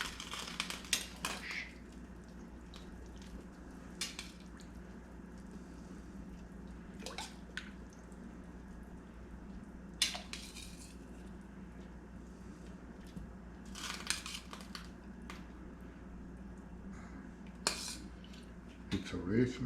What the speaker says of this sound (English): So it's time to put in the potatoes and the squash